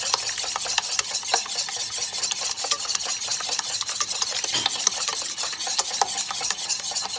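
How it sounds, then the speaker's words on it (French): Four eggs and 150 g of sugar whisked together in a saucepan for a flan, a steady close scraping and stirring that keeps up throughout with quick repeated strokes and no voices. "Je vais commencer par mélanger le sucre avec les œufs."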